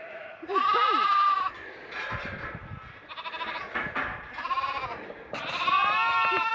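Sheep and lambs bleating loudly while being herded to fresh pasture, a run of overlapping close calls from several animals, some long and wavering, with no talk.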